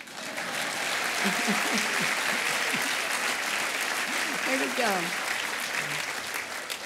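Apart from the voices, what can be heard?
audience applause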